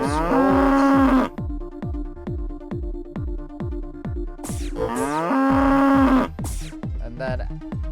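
Cartoonish cow moos from a video game sound up as cows are clicked and picked up, two loud drawn-out lows with a short gap between them, laid over steady looping background music with a plucked beat.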